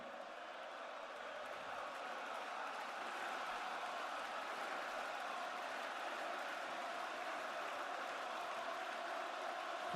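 Steady roar of a live wrestling crowd during a WWE SmackDown broadcast, loud and continuous with broad cheering and applause-like wash throughout, no clear breaks.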